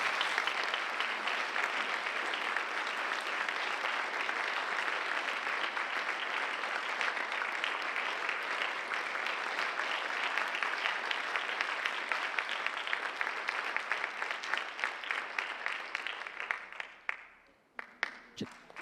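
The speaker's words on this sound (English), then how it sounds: "Let's give him a round of applause as well." A large audience at a university leadership lecture applauds a medal recipient with sustained, dense clapping that holds steady for most of the time before tapering into a few scattered claps at the end.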